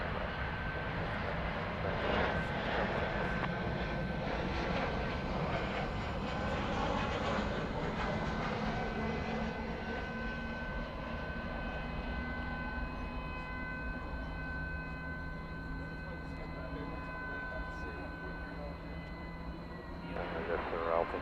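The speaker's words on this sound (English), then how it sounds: "This is 737-800, American Airlines coming in from Atlanta, Georgia." American Airlines Boeing 737-800 arriving at DFW Airport at night, a faint steady jet engine whine and roar in the distance, with voices talking over it.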